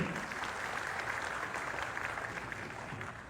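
Crowd at a political speech on injustice to the Dalit community applauds steadily, a faint, distant, continuous wash of clapping throughout.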